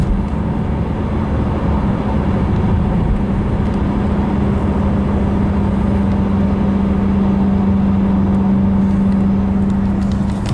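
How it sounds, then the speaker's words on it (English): A Nissan Altima engine with a CVT transmission hums steadily under light throttle, a constant drone with a sustained low tone that holds level throughout, with no voices. "Right now it's staying steady, but I give it a little bit more gas."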